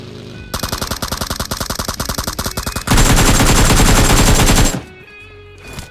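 Automatic AKM rifle fire in BGMI, a mobile battle royale game, rattling in a fast sustained burst that swells into a denser, louder stream of shots for several seconds before cutting off, with no talk.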